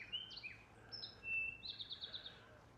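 Red finches and goldfinches give quick, high chirps and short twittering calls in a garden, faint and somewhat distant over quiet background noise.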